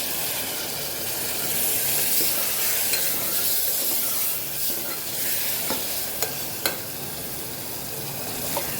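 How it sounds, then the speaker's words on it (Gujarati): Loud, steady sizzling and hissing from a hot pan of spiced eggplant curry as water is added, with occasional sharp crackles and soft scraping as the contents are stirred. "તો અહીંયા આપણે પાણી ઉમેરશું"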